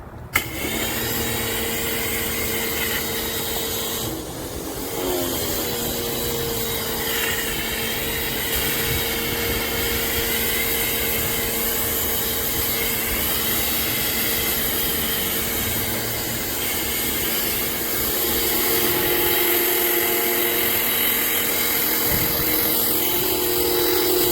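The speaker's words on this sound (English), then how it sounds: "I'm just going to go ahead and cover it in steel foam." Snow foam sprayed onto a filthy vintage Honda CB250 motorcycle, a continuous loud mechanical whine and droning hiss from a pressure washer or foam machine running steadily, close, with no speech.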